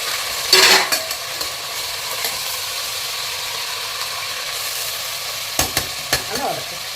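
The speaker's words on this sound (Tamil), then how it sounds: "சிக்கனை போட்டு ஒரு பெரட்டு பெரட்டிட்டு அரைச்சி வச்ச மசாலா ஊற்றிக்கலாம்" Chicken being stirred through ground masala in a pan, giving a few scraping, stirring strokes near the start and end over a faint, steady sizzle, with no talk.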